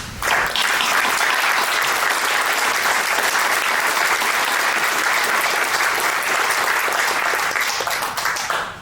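An audience at the Calera 2025 municipal candidates forum breaks into sustained, even applause for Mayor Brown, many hands clapping together for about eight seconds before it tapers off.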